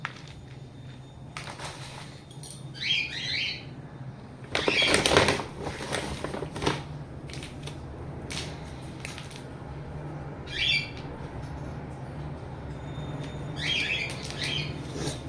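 Birds chirp and squawk in short bursts against a quiet background, with a few brief rustles and knocks in between.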